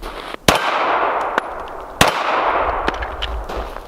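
Two sharp, loud shots from a Mossberg MC1 pistol firing target ammunition at a shooting range, about a second and a half apart, with a few lighter metallic clinks between and after them.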